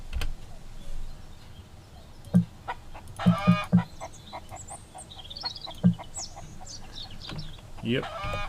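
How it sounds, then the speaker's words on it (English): Chickens cluck in the survival video game Mist Survival, several short clucks and bursts spaced irregularly against a quiet ambient backdrop, with brief squawks near the end. "I should probably process this chicken"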